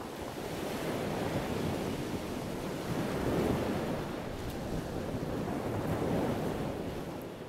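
Ocean waves wash onto a beach in Puerto Rico, a steady broad roar of surf with gentle swells in loudness, mixed with wind buffeting the microphone and no voices.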